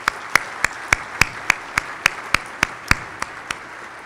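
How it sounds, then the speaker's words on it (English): Slow, evenly spaced claps ring out at a scouting luncheon honoring a helper, about a dozen sharp individual hand claps in a steady rhythm over quiet room tone, sounding sparse rather than like a full crowd. "let's have a round of applause for Gary"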